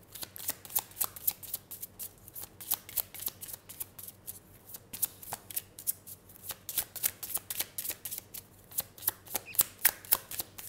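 Tarot cards riffled and shuffled by hand, close and fairly quiet, in quick papery bursts of flicks and snaps repeating in an uneven rhythm, no talking over them.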